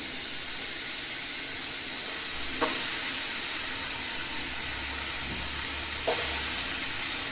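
Loud, even sizzling from a kadai as bottle gourd cooks, with two sharp utensil clinks and a brief low knock partway through.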